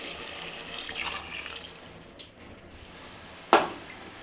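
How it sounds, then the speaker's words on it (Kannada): Hot water pours steadily into a pot for a couple of seconds, fading out, followed by a single sharp metallic clink near the end. "ಈಗ ಎರಡು ಗ್ಲಾಸ್ ಬಿಸಿನೀರು ಕಾಯಿಸ್ಕೊಂಡಿದ್ದೆ ಅದು ಹಾಕ್ತಾಯಿದ್ದೀನಿ"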